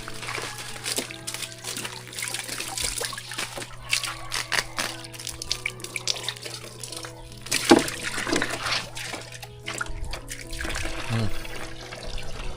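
Water flows steadily from an outdoor spot in a soft, continuous trickling wash under a low hum, with scattered knocks and clatter and a brief louder splash midway.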